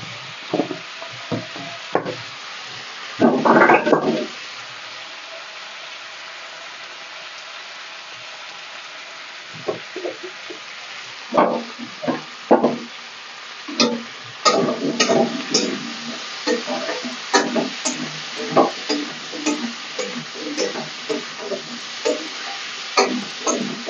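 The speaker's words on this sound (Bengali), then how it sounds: "আমি লবণ হলুদটা দিয়ে ওলটাকে ভালো করে ভেজে নিই।" Elephant foot yam frying in a pan with salt and turmeric, heard as a soft, steady sizzle broken by irregular scrapes and knocks of stirring, with a brief louder rustle early on and busier, clattering stirring later.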